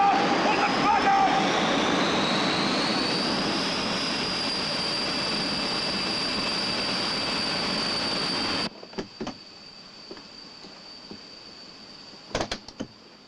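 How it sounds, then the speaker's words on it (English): A jet aircraft engine blast roars loud and steady for several seconds with a rising whine, then cuts off abruptly, leaving faint background noise and a few brief clicks. "As you can see, jet blast is a particularly nasty problem"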